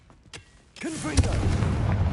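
A Confringo spell blast in Hogwarts Legacy lands as a short sharp boom, with a few faint pops first and then a rumbling burst, alongside brief voice sounds.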